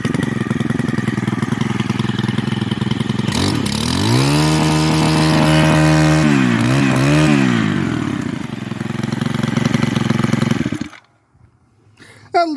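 Four-stroke Stihl FS111RX string trimmer engine running loud and close for about eleven seconds, holding a steady buzz and then revving up with rising pitch before dropping back and cutting off abruptly.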